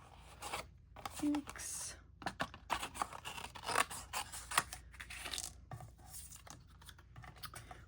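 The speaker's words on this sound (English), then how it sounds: "I'm just going to go ahead and cut that out." Scissors snip through stamped card paper with a run of quick, close, crisp cuts and short pauses, and a brief spoken word partway through.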